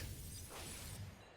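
A short, faint glassy shatter effect marks a Lander token being cracked in the MTG Arena card game, a single burst lasting about a second.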